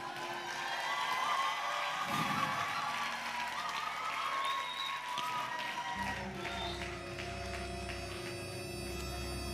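Applause and cheering from the crowd at the Miss RD Congo 2016 grand final for Miss Stella, a broad wash of clapping and voices that continues as deep, loud music kicks in partway through.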